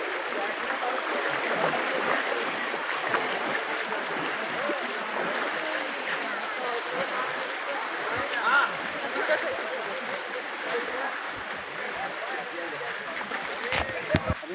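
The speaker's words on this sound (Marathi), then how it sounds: "पण वाहता पाणी आहे." A flowing mountain stream on a pilgrimage trek, a steady broadband rush of running water heard continuously, with faint voices in the background.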